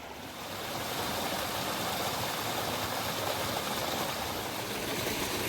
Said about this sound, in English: We've just stopped at this little unnamed brook coming down right at the bottom of William Clough.